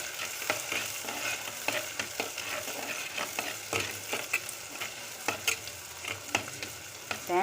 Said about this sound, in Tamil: நம்ம தக்காளி போட்டுடலாம். தக்காளியும் அதே மாதிரி எண்ணெயில் நல்லா வணங்கட்டும்.